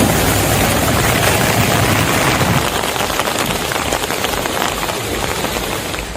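Heavy rain pours down in flooded Kilinochchi, Sri Lanka, a loud, dense, continuous hiss of drops drumming on surfaces, steady throughout with no voices.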